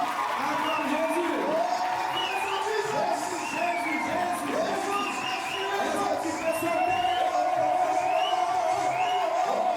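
Congregation at an evangelical church service cheering and shouting in acclaim for Jesus, a sustained loud crowd roar with whoops and high voices throughout, steady in level.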